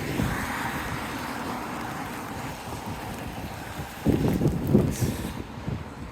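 Strong wind at an airport roars steadily into the microphone as a rumbling gusty wash, with heavier buffeting near the end.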